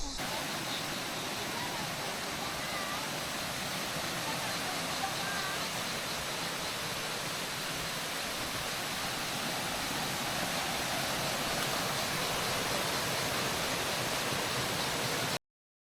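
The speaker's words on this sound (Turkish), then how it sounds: "Ha yukarıdan akıyor şelale." A waterfall spills down from above at Sugözü in the Anamur highlands, a dense, steady rushing roar that holds unchanged for the whole stretch, with no breaks or distinct splashes standing out.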